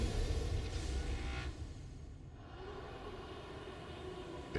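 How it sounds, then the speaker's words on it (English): A submarine engine in the underwater game Subnautica powers up, a low, steady mechanical rumble and whine that swells and then settles into a continuous drone, heard alone. "Engine powering up."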